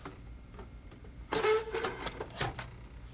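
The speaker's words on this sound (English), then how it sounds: "Now carefully slide the transfer drum out of the printer, guiding it with your right hand under the drum assembly frame" A transfer drum slides out of an Apple Color LaserWriter 12/600 printer, giving a few scraping, plasticky clicks and rattles close by, loudest around the middle, over quiet room noise.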